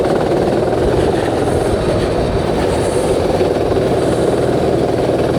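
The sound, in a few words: racing kart engine on track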